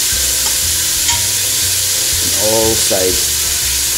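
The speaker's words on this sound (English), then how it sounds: "You see, it's getting browned." Beef browning in butter in a pot, a steady sizzle and frying hiss under stirring, with a brief spoken remark partway through.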